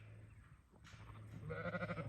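Ewes bleat in a pen during lambing checks, a faint wavering cry swelling into a louder pulsing bleat near the end over low background hum.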